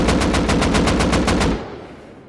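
An AK rifle without a muzzle brake fires in the game Rust: one loud, rapid burst of about ten evenly spaced shots lasting roughly a second and a half, then a short fading tail.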